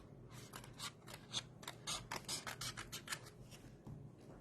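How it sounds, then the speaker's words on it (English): A paper-crafting die cuts through cardstock for a Halloween treat bag, producing a busy run of close, crisp scraping and crunching strokes with brief gaps, no voices. "Okay, so I'm just gonna to cut it with our die."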